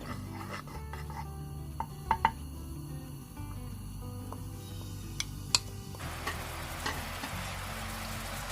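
Seasoning sizzling in a wok of cooking oil and red pepper oil, a quiet continuous fry with scattered clicks and taps from the utensil, no talking.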